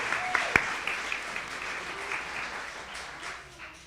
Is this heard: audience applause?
yes